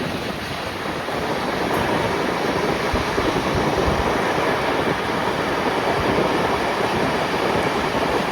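Romanian Intercity Ister passenger train rolling steadily along the rails, a loud, continuous roar of wheels and carriage rumble from on board with no pauses and no voices.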